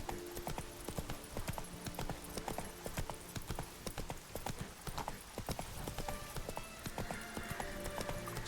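Roach the horse galloping in The Witcher 3, a steady rapid clip-clop of hooves running through the whole stretch over a busy game soundscape, close and continuous with no talk.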